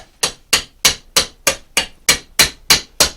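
A mallet strikes a chisel carving a wooden canvasback decoy, landing ten crisp, evenly spaced knocks about three per second, loud and close with nothing else heard.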